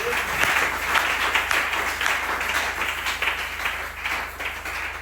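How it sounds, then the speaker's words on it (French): A church congregation applauding during a service, with dense, sustained clapping that fills the room at steady volume and no talking over it. "Applaudissez pour le Seigneur Jésus."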